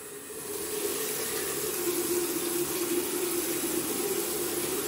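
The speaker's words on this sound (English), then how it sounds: "Then I rinse out my brush." A shaving brush is rinsed under a running tap at a vintage barbershop-style wet shave, a continuous close rush of water with a steady tonal hum, swelling slightly after the first second and holding evenly.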